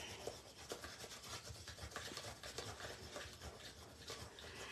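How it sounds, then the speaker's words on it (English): Bone folder rubbing down paper card while making a light-up Christmas card box, a steady close scraping and brushing texture with small taps, moderately quiet and continuous, no talking. "I'm just going to use my bone folder to get it into position and rub it down."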